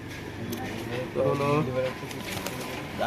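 Pigeons coo softly in the background at a market in Chinsurah under people talking, with a low murmur of an open space around them.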